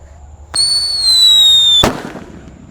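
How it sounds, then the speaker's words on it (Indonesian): A lit Black Buster firecracker whistles with a sharp, high, slightly falling tone for over a second, then ends in a single loud, close bang that fades quickly into quiet. "Di sini ada mercon Black Buster."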